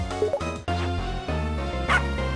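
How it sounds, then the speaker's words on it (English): A dog barks in the video game Shantae: Risky's Revenge, giving short yipping barks over bright, steady game music. "Can you please tell your dog to stop chasing me around and stop barking so much?"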